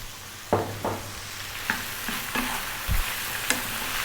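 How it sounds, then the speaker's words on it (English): Ground beef frying in a pan over above-medium heat, stirred with a series of scraping strokes and a low thud, all over a constant sizzle. "About 5 or 6 minutes, stirring often on this above medium heat."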